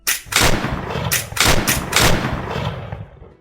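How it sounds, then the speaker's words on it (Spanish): Three loud, booming musket shots ring out in close succession from a thicket, each followed by a rumbling echo that fades away. "Se oyeron 3 disparos de mosquete procedentes del soto."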